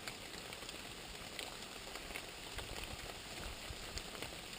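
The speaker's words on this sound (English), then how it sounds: "The rain is coming down." Rain falls on a trail shelter as a steady, soft hiss of pattering drops with scattered brighter ticks, continuous and moderately quiet with no voices.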